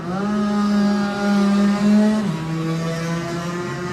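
A Classic TT lightweight racing motorcycle pulls away from the start, a loud close engine note holding steady and then stepping down with a gear change, no talk over it.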